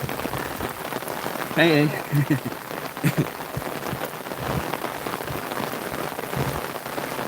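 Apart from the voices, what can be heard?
rain falling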